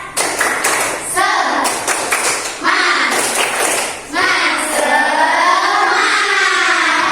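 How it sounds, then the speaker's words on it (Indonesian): A class of children performs the tepuk semangat clapping chant in a school classroom, loud rhythmic bursts of hand claps alternating with group chanting voices, several sharp clap clusters across the clip. "Oke, tepuk semangat."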